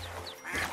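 A mother duck quacks, searching for her lost ducklings in a children's cartoon; a few short quacks, close and moderately loud.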